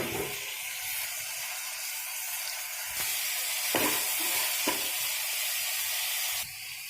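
Vegetables such as peas, potato or cauliflower sautéing in a pan with ginger-garlic paste, chili powder, garam masala and salt for a kurma. A steady close sizzle runs throughout, with scraping stirring strokes recurring every second or so.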